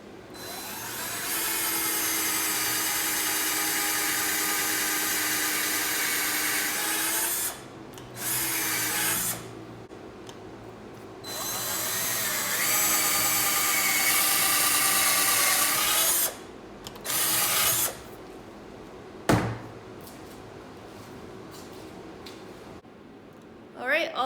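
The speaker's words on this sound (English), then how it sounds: "I go ahead and drill it up" A power drill whines loudly in long sustained bursts as it bores into a log for mushroom inoculation, stopping and restarting several times with short quiet gaps.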